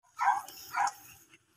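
A beagle stud dog barks twice, close and loud, two short yappy barks about half a second apart with a faint yip trailing after.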